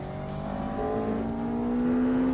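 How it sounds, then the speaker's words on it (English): A car in the racing game Forza Motorsport with an engine resembling a Toyota 2ZZ four-cylinder climbs steadily through the revs, its continuous drone rising in pitch and growing slightly louder, with no speech. "The car definitely kind of sounds like a 2ZZ, which is lore accurate."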